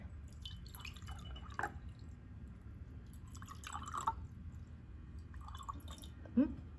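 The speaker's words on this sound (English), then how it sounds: "You're gonna take your water and you're gonna add however much you want." Water is added to small bowls for homemade watercolors: scattered soft drips and trickles, quiet and close, with a louder splash near the end, while a person talks softly in the background.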